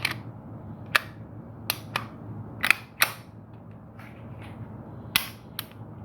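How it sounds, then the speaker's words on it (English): Metal parts of a Beretta 92X pistol being fitted together with a standard guide rod, a sparse series of crisp, close mechanical clicks and snaps over quiet room noise. "If we use the standard guide rod and just put the standard guide rod back in, and now we assemble a gun."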